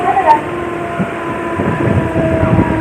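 A Navi Mumbai local train rolls into Dronagiri station with a steady rumble and low rattling that builds toward the end, and there is a faint high tone at the start.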